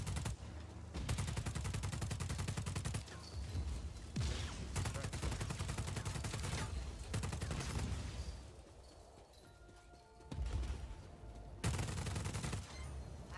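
Rapid, dense gunfire and repeated booming blasts from an underbarrel grenade launcher in Just Cause 4, loud and nearly continuous with brief lulls, explosions layered over the shooting.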